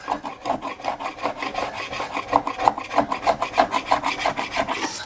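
Steady rasping scrub of a brush or pad working isopropyl alcohol over glue residue on a wide jet ski tray, a rapid back-and-forth rhythm close up and continuous, with no talking.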